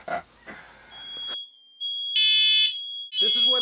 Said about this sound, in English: This is what it's like to be in the recording studio when the fire alarms won't stop going off.